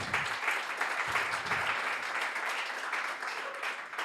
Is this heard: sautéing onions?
no